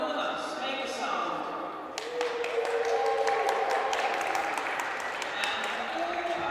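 An indoor archery competition crowd applauds and cheers for the competitor Ramonas, a burst of clapping and shouts rising mid-clip in a large, reverberant hall, with a voice talking over it at first.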